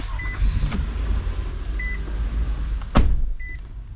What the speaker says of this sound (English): Go ahead and crank the vehicle up.